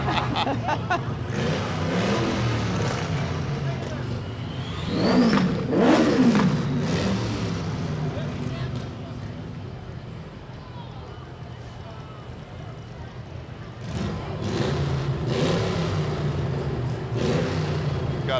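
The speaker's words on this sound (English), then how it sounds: "We rev our engines and say hello with the horns." Car engines rev in short bursts along a small-town peanut festival parade route, rising and falling amid crowd chatter and nearby talk, with a louder swell midway and another near the end.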